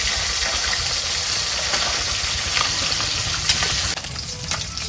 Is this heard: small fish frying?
yes